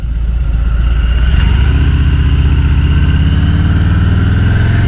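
A 2022 Harley-Davidson Heritage cruiser engine rumbles steadily while riding, a loud continuous low drone with a slight pitch rise early on, with no voices over it.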